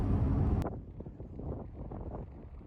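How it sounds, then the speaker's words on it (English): A loud burst of wind rumbling against the microphone on high ground at old mines in Arizona, then a steadier low gusty buffeting that continues throughout. "it's awful windy up here"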